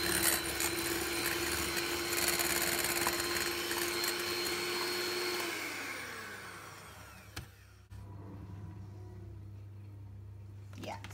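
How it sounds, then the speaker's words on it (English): A Kenwood electric whisk beats sugar into meringue, a close, steady motorized whir with a buzzing hum and rattling texture, then the motor winds down and stops near the end. "But I'm going to use the whisk again."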